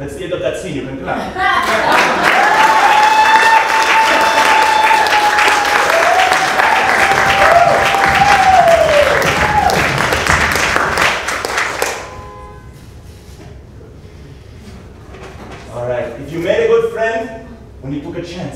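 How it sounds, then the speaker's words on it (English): A theatre audience at a live comedy show claps steadily and loudly for about ten seconds at the end of a scene, the applause then cutting off into quieter chatter and a few voices talking. "That's the end of that scene, you can clap."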